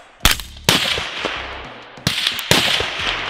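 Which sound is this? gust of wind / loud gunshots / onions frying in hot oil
loud gunshots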